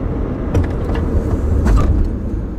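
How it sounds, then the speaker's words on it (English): A used car brakes firmly during a test drive, heard from inside the cabin as a loud low rumble of road and engine noise with a few faint clicks and knocks as the car slows, no talking. "I'm going to try to apply the brakes firmly"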